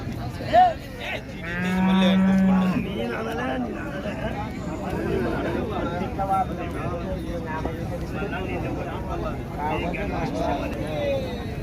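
A cow moos loudly once amid a busy outdoor livestock market, with people chatting and talking throughout.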